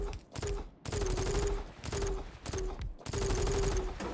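A blueprint shotgun fires repeatedly in a video game, with loud blasts in quick bursts separated by brief pauses, and a tonal whine rising and falling between shots.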